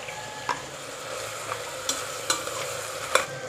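Onions frying with a pinch of salt in a pan, a steady soft sizzle broken by several sharp clicks and scrapes of stirring, close and moderately quiet, with no voices.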